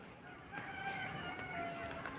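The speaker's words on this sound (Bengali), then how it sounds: "দেখো এখানে কত পোলট্রি মুরগি" Poultry chickens at a village farm cluck and call together in a steady, close flock din that fills the short stretch, with a crow-like call rising over the background.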